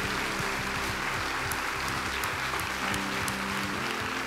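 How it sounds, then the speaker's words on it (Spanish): Church congregation applauding during a sermon, a broad steady wash of clapping heard at a distance over a low hum, with no speech on top. "Dale un fuerte aplauso al Señor por su palabra."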